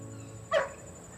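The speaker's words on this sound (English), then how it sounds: "Mary Jo, call off the dog" A single short bark or yelp from a dog, fairly close, rising over a steady indoor hum with no talking.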